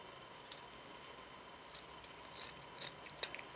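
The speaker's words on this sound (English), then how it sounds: "I'm going to cut kind of diagonally to give it that nice clean finish." Scissors snip through ribbon at a diagonal while finishing a rustic log slice wreath, giving about six quiet, crisp cuts spaced unevenly across a soft, hushed background.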